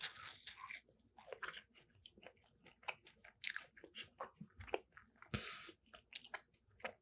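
A chicken nugget donut being bitten and chewed up close, with quiet, repeated crunchy bites and chewing that give a light crunch rather than a hard one.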